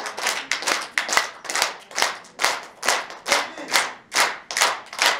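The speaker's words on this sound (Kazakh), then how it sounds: "Шапалақ, аямай шапалақ" A motivational seminar audience claps in unison, a rhythmic series of about a dozen strong, evenly spaced collective claps, loud and close, with no talking.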